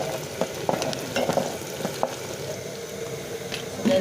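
Green pepper and onion stirred in a frying pan in an African village kitchen, a moderate sizzle punctuated by repeated scraping and knocking of the spoon against the pan.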